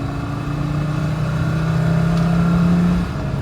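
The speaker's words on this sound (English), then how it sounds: "Here I'm gonna go full throttle or give it gas." A 2006 VW New Beetle with a 2.5L engine and a lean-running fault, accelerating hard at full throttle on the road, its steady close engine drone rising in pitch for about three seconds before easing off.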